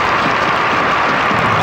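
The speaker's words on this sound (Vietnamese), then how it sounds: "ta hãy cho một tràng pháo tay thật lớn" A studio audience on a television game show gives a big round of applause, a continuous, loud, even roar of many hands with no gaps.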